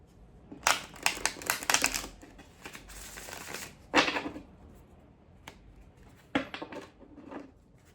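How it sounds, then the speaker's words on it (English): Tarot cards shuffled by hand in close, crisp bursts of riffling and slapping, a few quick flurries separated by pauses, with no talking over them. "Just one more shuffle."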